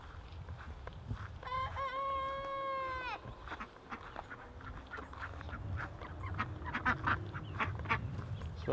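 Chickens and ducks on a farm, with one clear drawn-out bird call near the start and scattered clucks and quacks after it over outdoor background noise.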